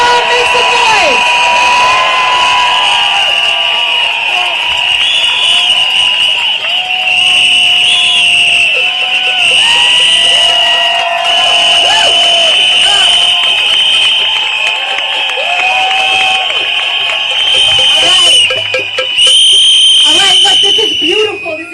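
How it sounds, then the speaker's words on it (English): A huge anti-Trump protest crowd in Washington, DC makes loud, sustained noise, with cheering, shouting and piercing whistle blasts running throughout. Drumbeats blend into the dense roar. "Blow whistles. If you've got a drum, beat that drum. Make some noise."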